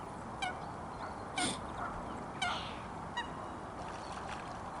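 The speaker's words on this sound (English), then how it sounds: "watch and listen to the wildfowl on my local pond" Geese honk in short scattered calls on a local pond, a few distinct honks spaced over several seconds against a soft outdoor background hiss.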